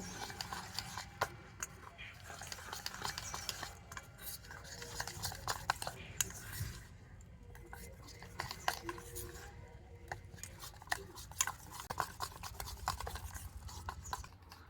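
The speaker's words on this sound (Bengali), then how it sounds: "আর এই আমের পাল্পটা দিয়ে আবারও কিন্তু একটু ভালো করে মিশিয়ে নেব" Raw mango pulp being stirred into poa pitha batter: soft, steady scraping and clinking of a utensil against a bowl, with faint rubbing sounds throughout.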